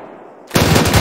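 Machine gun fire in a military video game bursts in suddenly after a moment of quiet hiss, a loud, rapid stream of close shots that carries on to the end.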